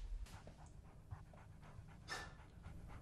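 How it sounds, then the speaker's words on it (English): A dog pants close by in a quiet indoor scene, with soft rhythmic breathy puffs repeating throughout and a brief sharper noise partway through. "I'm talking about the dog that sat at the door."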